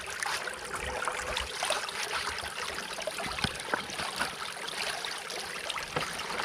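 Small creek water trickling and splashing in a forest stream while rocks are washed clean of dirt for gold prospecting, a steady close burble with occasional knocks and no talk.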